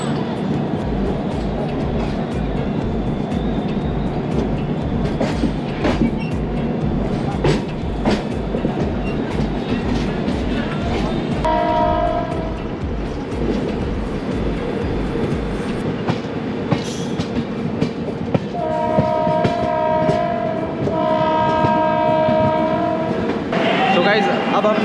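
A Delhi–Dibrugarh Special passenger train pulls out of Naugachia station in Bihar, with loud steady rumble and rhythmic clickety-clack of wagons, interrupted by two long horn blasts midway and near the end.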